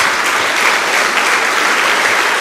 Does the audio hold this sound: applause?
yes